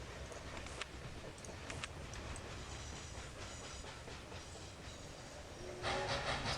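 A train rolls along steadily in the video game Locomotion with a soft, faint, continuous rumble, a few light clicks, and a brief louder swell near the end.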